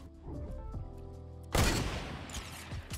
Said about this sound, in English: I'm getting sniped from that high ground and this tree